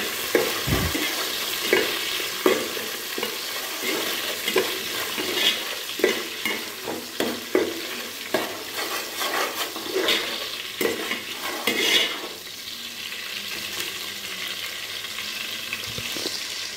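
Fish frying in a pan for Nellore-style fish pulusu, with repeated stirring scrapes and clinks over a soft sizzle, close and fairly quiet, no talking.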